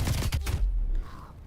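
LMG and tactical rifle firing in Call of Duty: Black Ops Cold War, a brief loud burst of rapid shots that cuts off abruptly after about half a second, leaving a faint quiet tail.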